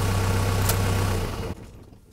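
Mercedes W123 240D diesel engine idling with a loud, steady clattering rumble that stops abruptly, leaving near silence.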